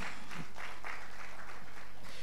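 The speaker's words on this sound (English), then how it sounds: "another round of applause for him" Steady, dense applause from a crowd at the 13th EEF Legacy Series event, continuous clapping throughout.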